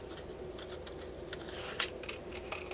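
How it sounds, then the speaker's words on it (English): Scissors snipping paper along curved edges of a label template, a run of soft, quick clicks and crisp cuts close up, with one sharper snip standing out near the end. "keep your scissors as steady as you can while you move the paper along"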